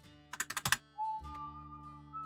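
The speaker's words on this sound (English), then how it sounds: "You can see what I'm typing." A quick run of about six crisp keystrokes on a computer keyboard, close and clear, followed by a few quieter clicks over a steady background hum.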